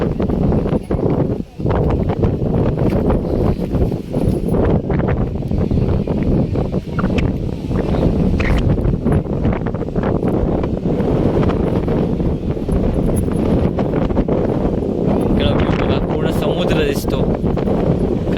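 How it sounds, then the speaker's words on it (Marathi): Strong rain-laden wind at a coastal viewpoint at Bhagwati Bandar, Ratnagiri, roars and buffets the microphone continuously, a loud rough rush that never lets up, with voices faintly underneath. "जाव्यावरती वारा बघा सुटलाय आहे"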